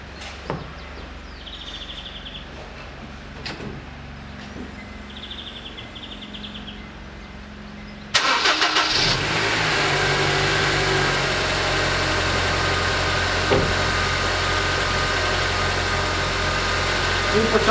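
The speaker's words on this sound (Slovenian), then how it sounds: "ko nalijemo do vrha, gremo pa pržgemo motor" A car engine cranks and catches after the coolant is topped up during a heater repair, then settles into a steady loud idle; birds chirp faintly beforehand and a voice speaks over parts.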